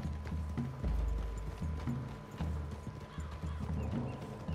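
Horses walk with steady clip-clop hoofbeats through trees in a video game, fairly close and at an even pace, with an occasional snort or whinny and no talk over them.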